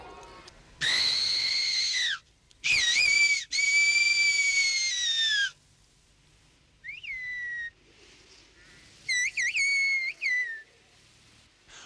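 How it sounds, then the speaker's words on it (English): Shepherds' whistled language carries over long distance: several loud, piercing whistled phrases with rising and falling pitch, some sustained, others short and trilled, separated by quiet gaps against faint background. "the shepherds would make themselves understood by whistling at a distance of up to 9 miles"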